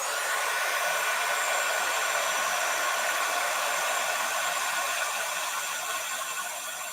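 A heat gun heating craft embossing powder from below blows with a loud, steady roaring whoosh, held close and continuous, with no talking.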